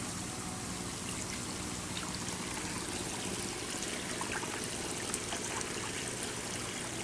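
Water drains from a backyard fish pond in a steady, soft trickle and dribble, continuous and fairly quiet with no talking.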